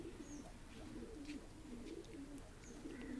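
Pigeons of fancy breeds cooing, low soft repeated rolling coos close by, faint and steady with a little chirping from other birds around them.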